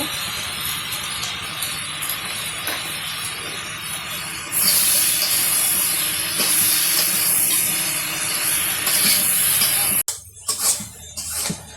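Taro stolons tossed into a hot pan over a Bangladeshi village cooking fire set off a loud, bright hissing sizzle that swells over the existing background and runs steadily for several seconds before cutting off abruptly.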